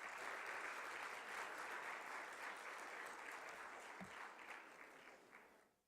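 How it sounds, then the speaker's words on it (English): Sustained applause from an audience at a Muslim community banquet dinner, a dense steady wash of clapping that continues evenly before tapering off at the end. "Give them a round of applause,"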